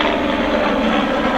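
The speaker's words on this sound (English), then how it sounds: "These niggas got a helicopter up here." A helicopter passing overhead, a steady, loud, dense rotor and engine drone that fills the whole moment without letting up, with no voices over it.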